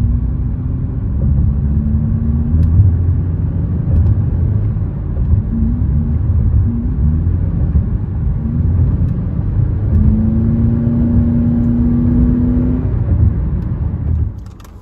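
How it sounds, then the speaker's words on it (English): A 2017 Nissan Rogue Sport engine hums steadily up close, with a low, even rumble and a few gentle rises in pitch as the gas is pressed, no talking over it, cutting off abruptly at the end. "when you press on the gas, it literally goes vroom vroom"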